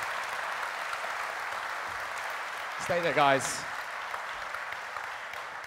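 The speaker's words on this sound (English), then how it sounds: "Round of applause, please, for Kate and Martin" Audience applause for two speakers at a government design conference talk, a steady broadband wash of clapping throughout, with someone briefly speaking over it partway through.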